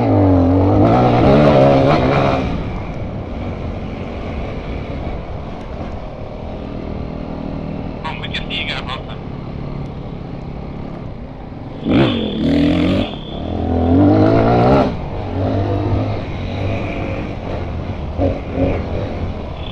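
Motor vehicles race by at speed, their engines holding a continuous loud, rasping drone with repeated surges as they rev and pass close by.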